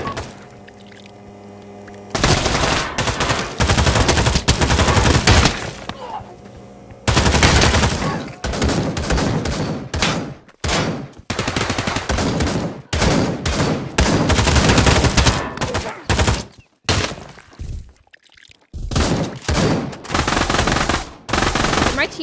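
Loud sustained automatic gunfire in the Pavlov VR shooter game, long dense bursts broken by short pauses and a few quieter gaps, close and continuous for most of the stretch.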